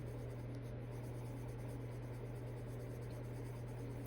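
Steady, soft scratching of a Caran d'Ache Luminance oil-based colored pencil on paper, a continuous dry rasp with a faint low hum beneath it, close and quiet.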